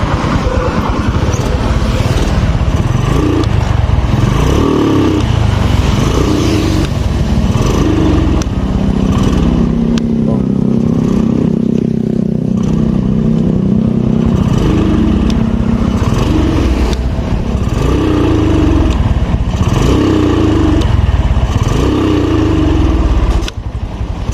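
A Honda Blade motorcycle engine revs hard and loud close by, held at a high roaring pitch in long sustained pulls with brief dips between throttle surges, and no voices over it.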